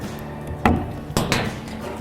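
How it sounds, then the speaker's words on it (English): A caster is pushed up into the base of a mid-size kitchen island until it snaps in, giving two sharp close pops about half a second apart in a quiet room. "Take your first caster and from the bottom, just insert and press until you hear a pop."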